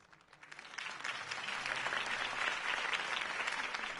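Crowd applause and cheering follow Harvey Dent's campaign speech, swelling from a quiet start into sustained, dense clapping across a large audience.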